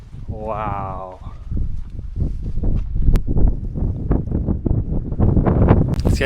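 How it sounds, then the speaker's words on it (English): Strong gusting wind on the exposed slopes of Galtymore mountain buffets the microphone in heavy, rough blasts, while a person talks over it. "It's getting very windy"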